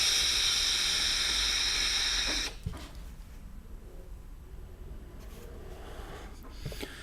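Inhaling from an Eleaf Ello triple-coil vape with the airflow fully open: a steady, strong airy hiss for about two and a half seconds, then it stops, leaving faint room noise with small handling clicks.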